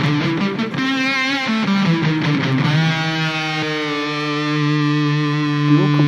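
An electric guitar played through an octave fuzz effect on a Line 6 Pod XT gives a buzzy, distorted run of notes, then a long sustained chord that rings out loud and close with no talking.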